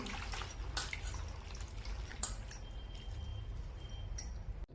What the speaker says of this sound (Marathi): मी एका भांड्यामध्ये पाणी घेतलेलं आहे स्वच्छ धुवायला